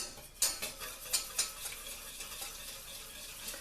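Milk is whisked into a butter and flour roux for bechamel, a soft continuous stirring swish with a few sharp metallic clinks against the pot near the start, close and fairly quiet.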